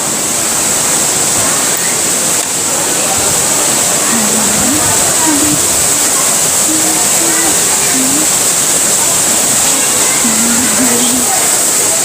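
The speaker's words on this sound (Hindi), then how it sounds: "झरने का आवाज़ आपको अब सुनाई देगा" A waterfall rushes loud and steady at the Jatmai Ghatarani temple, a constant full roar of falling water with no break, while faint tones drift underneath.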